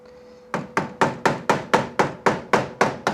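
Ten sharp metallic hammer blows strike a nail driven against a hinge pin on a classic VW Beetle door, spaced in a steady, even rhythm after a brief quiet start, close and loud.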